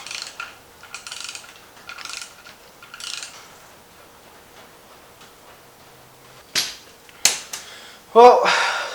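Ratchet tightening engine bolts during an LS engine swap into a GMT400 truck, a few short bursts of clicking spaced apart, with sharper, louder clatter near the end against a quiet shop background.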